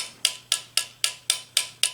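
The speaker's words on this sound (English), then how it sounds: "You're going to take your soft non-marring hammer" Soft non-marring hammer tapping the frame of a Colt Mk III revolver, seven evenly spaced sharp taps about a quarter second apart, close and clear with a faint steady hum underneath.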